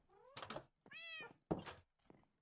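A cat meows three or four times in quick succession during a Minecraft stream, the calls short and clear with brief pauses between them and no talk over them.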